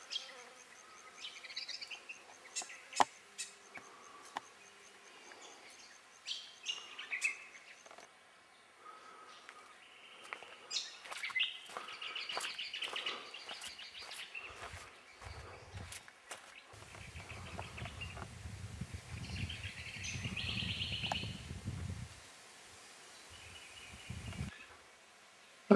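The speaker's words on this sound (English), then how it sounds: "Just listen to the birds." Faint bird chirps and calls come and go in a quiet gorge near Katherine, Australia, with buzzing insects and a low rumble in the background.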